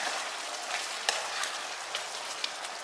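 Baby potatoes with sliced red chili frying in a pan, giving a steady, fairly quiet sizzle with faint crackles and a few soft pops, and no talking.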